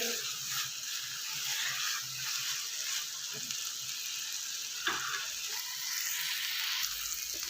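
Turnips fry in a non-stick pan with a faint, continuous sizzle broken by small irregular crackles and ticks.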